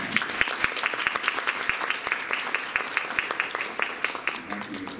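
Applause from the audience at a disaster storytellers' forum in Tohoku, a sustained even wash of many hands clapping at a steady pace for several seconds, with no talk over it.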